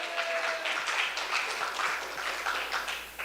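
A congregation claps during an early-morning church service. The applause is a steady, moderately loud wash of many hands that carries on evenly for a few seconds.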